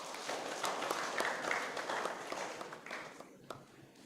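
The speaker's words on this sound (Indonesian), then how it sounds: "kita sambut dengan tepuk tangan." Congregation applause at a Pentecost Sunday church service in Yogyakarta, a steady broadband patter of many hands clapping that holds fairly even for about three and a half seconds before thinning out near the end.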